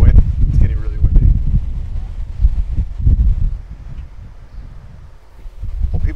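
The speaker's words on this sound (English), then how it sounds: "you hear the wind? It's getting really windy." Gusty wind buffets the microphone in low, rumbling surges that rise and fall throughout.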